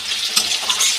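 Chopped tomatoes for mutton biryani fry and get stirred in a pan, a steady close hiss of sizzling oil with soft scraping accents, no voices.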